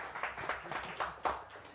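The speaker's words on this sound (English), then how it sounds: "A round of applause for you fine ladies and gentlemen" An audience applauds a jazz sextet at Monk's jazz club, with dense, fairly soft clapping swelling in a few uneven surges over roughly two seconds.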